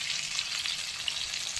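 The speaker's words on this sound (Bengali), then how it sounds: "এখানে মাছ ভাজা হচ্ছে" Fish sizzling as it fries in a pan with oil, a steady close crackling hiss that holds evenly throughout with no voices.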